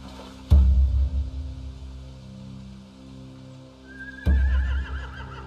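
Two loud horse whinnies in the video game The Walking Dead: The Final Season, each a sharp burst followed by a shaky neigh, separated by a few seconds of quieter ambience.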